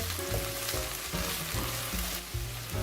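Leftovers with pak choy and asparagus stir-fried over medium heat, a loud continuous sizzle with rhythmic tossing and scraping strokes throughout, no voices.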